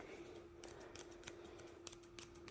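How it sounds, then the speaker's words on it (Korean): Scissors trim the ends of a man's coarse, sticking-out hair with a comb, giving a series of soft, close snips in an irregular rhythm over a faint steady hum. "이렇게 빗, 가위로 이렇게 끝쪽을 살살 정리되셔서"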